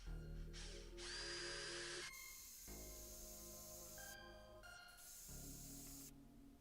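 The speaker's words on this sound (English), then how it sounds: "I'll need to drill pilot holes for the screws" A power drill bores pilot holes for screws in scrap wood while building a wheeled workshop storage box, several short bursts of whirring motor and bit biting into timber, close and loud, separated by brief pauses.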